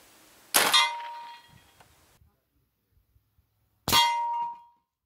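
A B&W S45 .45 caliber semi-automatic air rifle fires a single loud shot, followed about three seconds later by a bright metallic clang as the pellet strikes a steel target, with quiet rustling between.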